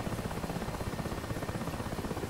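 Mi-8 helicopter rotor in the DCS flight simulator during a hover: a steady rhythmic chopping thrum at moderate loudness, pulsing evenly with no voices.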